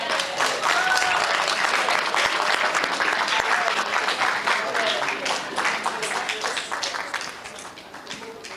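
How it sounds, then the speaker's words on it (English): An audience at a Curvy Girl Project event gives a long round of applause, dense steady clapping filling the room and then gradually thinning and fading toward the end. "let's give her another round of applause"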